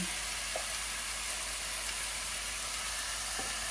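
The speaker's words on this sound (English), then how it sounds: "The mushrooms are cooking." Mushrooms sizzle in a frying pan, a steady broadband hiss of frying that holds evenly throughout with a couple of faint clicks, no voices.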